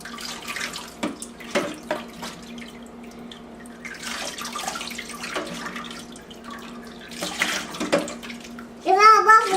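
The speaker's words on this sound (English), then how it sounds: "It's all bubbling." Running water splashes and gurgles while a child washes dishes at a toy dishwasher, with steady trickling and occasional louder swishes. Someone talks briefly at the end.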